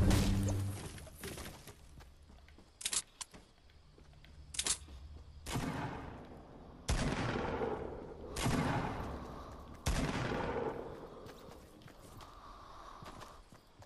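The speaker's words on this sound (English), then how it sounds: "I'm a shotgun battle right near me." Shotgun fire in a Fortnite battle comes as several loud, booming blasts spaced a second or two apart, each with a long decaying tail, alongside a few sharper clicks and thumps.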